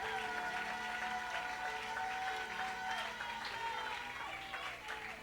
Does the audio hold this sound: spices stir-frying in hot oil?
no